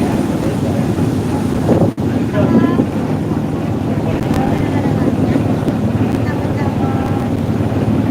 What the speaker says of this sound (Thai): ตอนนี้เรากำลังข้ามจากฝั่งนะครับไปที่เกาะช้างนะครับ เกาะช้างจังหวัดตราดนะครับ นั่งเรือเฟอร์รี่นะครับ